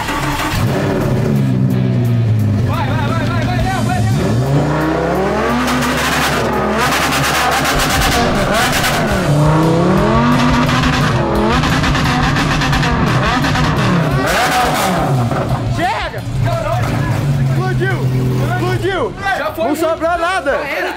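A Lamborghini revving hard with a balloon stretched over its exhaust, the engine roaring loud and close in repeated surges while people shout and talk excitedly over it.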